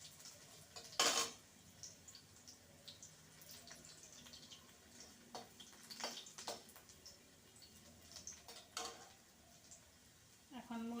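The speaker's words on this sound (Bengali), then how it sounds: "রসুন দেব এর মধ্যে তেলে। রসুনটাকে আগে দিয়ে নিলাম।" Garlic frying in oil in a home kitchen, giving a soft sizzle with occasional stirring scrapes and clinks of a utensil against the pan, fairly quiet and close.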